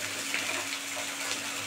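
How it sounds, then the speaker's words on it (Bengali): A little water poured into a pan while making dhokla: a steady, soft trickling splash lasting a couple of seconds, alone with no talk. "দিয়ে অল্প করে জল দিয়ে দেবো, একদম অল্প করে।"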